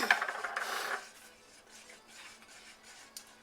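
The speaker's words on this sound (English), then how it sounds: "We're going to add in our seasonings. Whisk those around." A whisk stirring seasonings through a thick she crab soup sauce in a pot, a close scraping swish for about a second, then fading to faint intermittent scrapes with a final clink.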